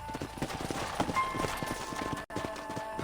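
Horse hooves clip-clop in the Red Dead Redemption video game after riders dismount at a ranch, several horses stepping in a steady, close, moderately loud rhythm with a brief break in sound near the end.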